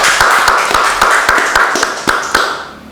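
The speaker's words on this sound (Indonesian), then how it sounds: "Kita beri tepuk tangan sekali lagi." People at a hotel food event in Kuta clap their hands together in a quick, even rhythm of sharp, close claps, about four per second, with a roomy crowd wash behind them.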